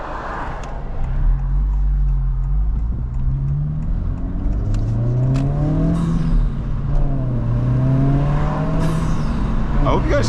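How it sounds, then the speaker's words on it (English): Inside a car fitted with a PRL short ram intake, the engine revs up through repeated pulls, its pitch climbing, while faint high whistles of the turbo spooling sweep upward over the drone. "I hope you guys can hear the turbo on camera"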